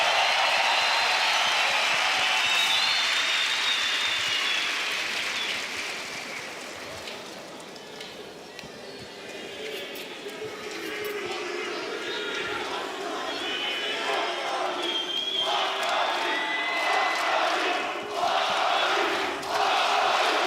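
An esports arena crowd at the PGL Cluj-Napoca 2025 semifinals keeps up a steady, loud roar and cheering that rises toward the end, with commentators talking over it.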